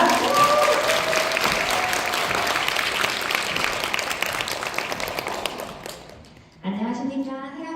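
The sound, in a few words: audience applause as speaker comes on stage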